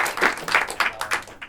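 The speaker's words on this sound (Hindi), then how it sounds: "तो जोर जोर से तालियां बजाएं जरा" A short burst of audience applause at an improv comedy show, several rapid claps swelling together, fairly close and lively.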